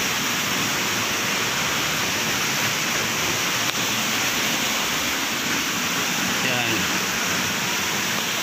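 A small waterfall at Tree Falls in Sta. Maria, Laguna gives a steady, dense rush of falling water that fills the whole stretch at a constant level.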